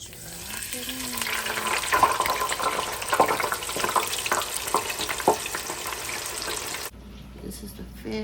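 French fries sizzle loudly in hot oil as they go into the pan. A crackling hiss is broken by clatters and stirring clanks, and then the sound suddenly drops to a quieter background.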